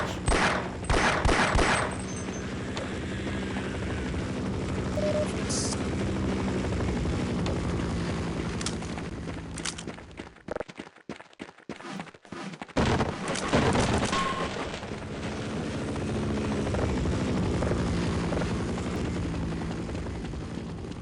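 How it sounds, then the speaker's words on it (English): A Half-Life helicopter roars steadily and close while bursts of gunfire and sharp impacts break in, with a short near-silent gap midway before the rotor din returns at full strength. "How sick of the helicopter sound am I going to be by the end of this?"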